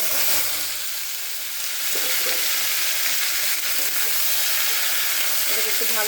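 Steamed jackfruit, seasoned with salt and turmeric, fries in hot oil with a dense, steady hiss and crackle held close and loud, with a few faint stirring knocks.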